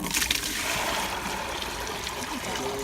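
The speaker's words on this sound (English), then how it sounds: "We're gonna do an experiment about the water spinning on both sides of the equator." Water drains and swirls steadily for a few seconds in an equator demonstration in Quito, Ecuador, a continuous close trickling rush with faint noise around it.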